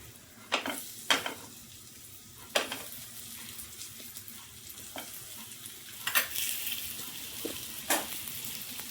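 Elephant foot yam slices frying in oil in a pan, a steady low sizzle with scattered clinks and scrapes of a utensil placing pieces one by one, close and without talk.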